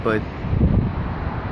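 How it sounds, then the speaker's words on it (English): Low buffeting wind rumbles against the microphone, with a brief spoken word at the start. "it's a little windy, it's not too bad"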